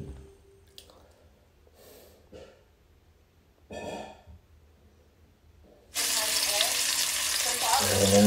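Garlic sautéing in hot oil for a spareribs adobo in coconut milk, a quiet stretch of faint kitchen clatter giving way to a sudden loud, steady sizzle that fills the last couple of seconds.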